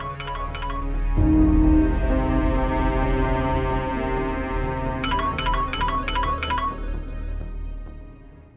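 A phone ringtone plays a repeating electronic melody, fairly loud and close, with a sustained musical tone underneath and a bright chiming pattern returning near the end.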